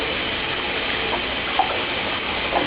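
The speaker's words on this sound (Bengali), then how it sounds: "এখন তো উনি গরম জলে চান করছেন" Moa bathes in hot water in a tub, a steady close wash of sloshing and gushing water with a couple of small splashes.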